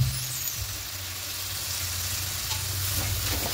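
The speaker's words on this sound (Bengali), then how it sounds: "দিয়ে খুব ভালো করে কষিয়ে নেব, যতক্ষণ না মশলা থেকে তেল ছাড়ছে এভাবে কষাতে হবে" Spice paste with sour yogurt frying in a pan for egg korma, a steady close sizzle with soft stirring scrapes, continuous throughout with no talking.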